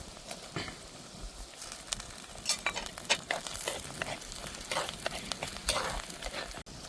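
Ginger, chili and garlic paste sizzling in a hot pan, a steady loud crackling fry with stirring scrapes through the whole stretch and no voices.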